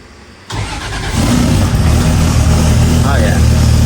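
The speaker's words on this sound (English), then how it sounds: "let's fire this one up to start" A car engine cranks and catches about half a second in, then settles into a steady, loud idle close by. No one speaks.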